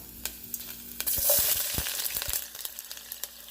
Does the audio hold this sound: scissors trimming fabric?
no